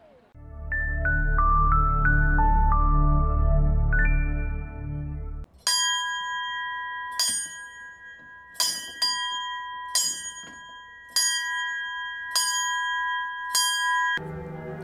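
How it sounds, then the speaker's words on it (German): Church bells ring at the first bell concert in Esslingen, a series of about seven bright, resonant strikes with long ringing tails, following a few seconds of another sustained tonal sound. "Am Sonntag fand das erste Esslinger Glockenkonzert statt."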